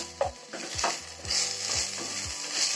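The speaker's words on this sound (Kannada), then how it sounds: "ಇದನ್ನ ಗರಿ ಗರಿಯಾಗಿ ಸಣ್ಣ ಉರಿಯಲ್ಲಿ ಕೆಂಪಾಗುವವರೆಗೆ ಫ್ರೈ ಮಾಡಬೇಕು." Chopped ivy gourd fries in a little coconut oil over a low flame, giving a steady close sizzle, while a spatula stirs the pan in regular scraping strokes about twice a second. No voices.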